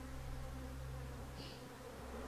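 A continuous, close droning buzz of many honeybees in Ethiopia, Argentina or Corsica, steady and even throughout.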